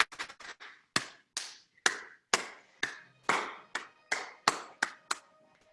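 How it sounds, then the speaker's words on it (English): Online participants clap one after another on camera, a sequence of about a dozen separate sharp hand claps, each a single crisp smack with a short room tail, spaced irregularly and heard alone with no talking. "can everybody turn on your screens and give a clap that hits all 4 walls"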